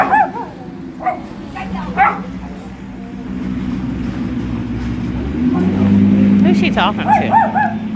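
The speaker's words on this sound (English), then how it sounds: "The dog picking up on bad energy." A dog gives short yips and barks that trail into whimpering, while people talk over it and a car's hum runs steadily underneath.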